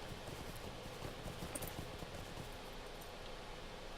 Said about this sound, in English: So I will ride my horse up this hill.